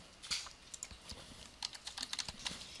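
Numbers are tapped into a computer keyboard in short, uneven bursts of light plastic key clicks, close but quiet, with no one speaking.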